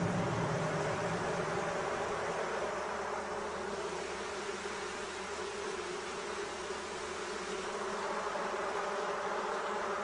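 Honey bees hum steadily around a hive during a beekeeper's visit, a dense continuous buzz at moderate volume with no talk.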